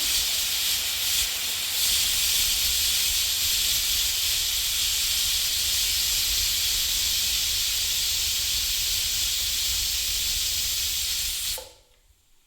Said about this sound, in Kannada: ನೋಡಿ, 1 ವಿಸಿಲ್ ಆಯಿತು. ಇವಾಗ 2 ವಿಸಿಲ್ ಆಗಿದೆ.